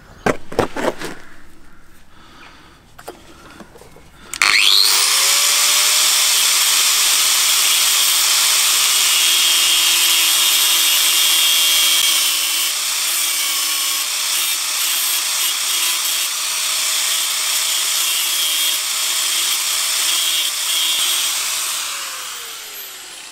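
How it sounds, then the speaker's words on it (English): Angle grinder grinding metal for a Mk4 Escort van door lock: a few short knocks, then a loud sustained high whine that holds steady for almost twenty seconds before easing off, close and with no voices. "let's see if we can do something with the angle grinder to make it fit"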